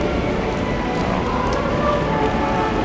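Steady rain pours at the Six Flags Great America amusement park during a Holiday in the Park winter event, a loud, dense, constant hiss of drops with no breaks.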